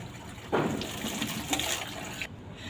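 Water gushes and pours into bottles from a pumped supply at home, a steady close splashing flow that begins abruptly, swells and then tapers, with no voices.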